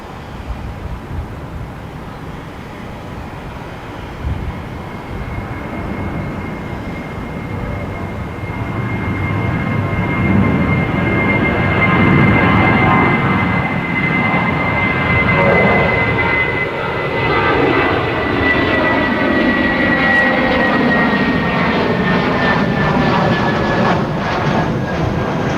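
A fixed-wing airliner takes off at an airport, its jet roar building from a moderate rumble to a loud, sustained blast with a whining tone that slowly falls in pitch as it climbs away.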